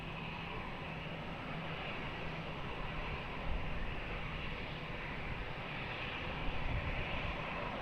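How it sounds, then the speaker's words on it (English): Jet airliner on its takeoff roll from runway 20 at Lisbon Airport, a steady broadband engine roar that holds evenly throughout with slight surges, no voices present. "runway 20, clear for takeoff"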